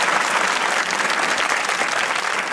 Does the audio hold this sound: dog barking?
no